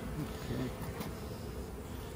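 Steady low buzzing of honey bees in a long Langstroth hive fills the clip, a continuous droning hum with no talking over it.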